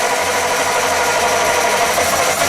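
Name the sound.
armoured vehicle engine starting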